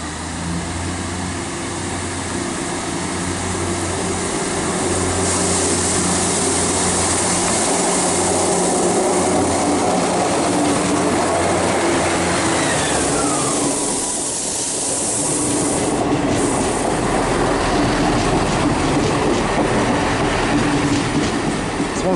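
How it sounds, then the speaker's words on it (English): An East Midlands Class 158 diesel unit, 158846 with mixed Cummins and Perkins engines, pulls out of Stockport bound for Norwich, its loud engine drone and rail noise steady, easing and then building again as it leaves. "departing now is the 1254 East Midlands train service to Norwich from Liverpool"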